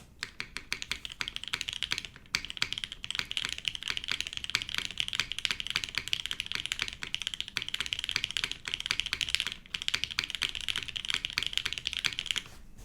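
Rapid, continuous clacking of keys on a mechanical keyboard, close up, with a steady typing rhythm and only a couple of brief pauses.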